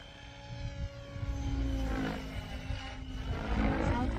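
A Goosky RS7 RC helicopter whines steadily through practice piro flips, its rotor and motor tone loud and continuous with rising and falling surges.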